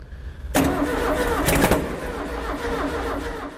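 A camper van engine, newly rebuilt, cranks and catches, then runs rough and loud at close range for a few seconds; no voices.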